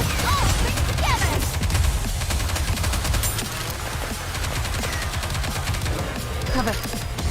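Dense gunfire bombardment in the video game Nikke, rapid continuous bursts of automatic fire filling the whole stretch, with game voices briefly heard.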